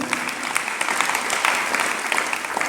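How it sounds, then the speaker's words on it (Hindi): An audience at a spiritual discourse claps steadily, a dense, loud wash of hand claps that fills the whole stretch without pause. "आप ताली बजाने का आनंद ले रहे हो"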